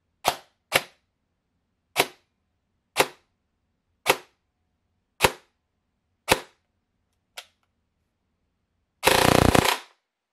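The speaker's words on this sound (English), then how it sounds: "I'll do a little rate of fire mag dump on something" An airsoft MP with an 18 TPA high-torque motor fires into a chrono box, first eight sharp single shots spaced out, then a loud, fast full-auto burst lasting about a second, close and with no talk.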